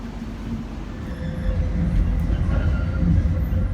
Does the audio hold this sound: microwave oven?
no